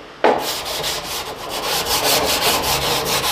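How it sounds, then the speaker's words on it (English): Brisk scrubbing on a Mustang car part, removing dirt and grime: loud, continuous back-and-forth rubbing strokes in a close, even rhythm with no voices. "Scrubbing this."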